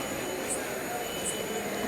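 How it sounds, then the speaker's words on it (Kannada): The Mysore–Belgaum Express stands at Mysore Junction station, giving a steady broadband rumble and hiss of station ambience with no distinct events. "ನಾವು ಹೋಗ್ತಿರೋ ಟ್ರೈನ್ ಇದೆ ನೋಡಿ"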